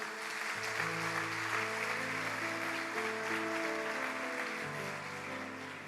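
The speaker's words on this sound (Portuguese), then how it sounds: "Dê um forte aplauso ao Senhor." A church congregation claps steadily in a dense wash of applause during a worship service, mixed with sustained keyboard or organ chords that carry on beneath it for several seconds.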